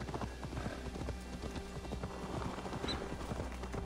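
Horse hooves clip-clop steadily in Assassin's Creed Valhalla, a brisk repeating rhythm of quiet game footsteps under a low ambient bed.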